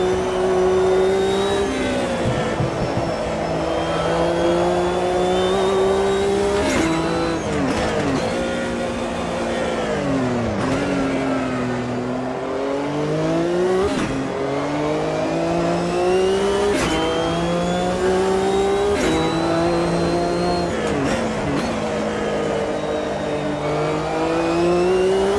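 A 710-horsepower six-cylinder race car engine in Automobilista 2 sim racing, revving loudly and continuously with rising and falling pitch through gear shifts and corners, with occasional tire squeal and no talking.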